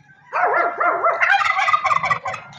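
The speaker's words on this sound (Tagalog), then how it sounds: "Lalaki yung pabo na yan." A male turkey (tom) beside a road lets out a loud, warbling gobble close by, followed by a rapid burst of further gobbling notes.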